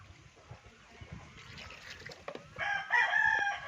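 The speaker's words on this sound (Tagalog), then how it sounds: "Yung mga nakatali na mga tandang" A tethered rooster on a farm crows loudly and close toward the end, over a faint background of clucking birds and trickling water.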